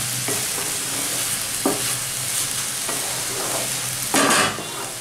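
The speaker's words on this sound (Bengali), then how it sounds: "একটু নাড়াচাড়া করে নিলাম" A vegetarian ash gourd curry with garam masala fries in a pan, a close, constant sizzle with several brisk spatula scrapes and one louder stir near the end.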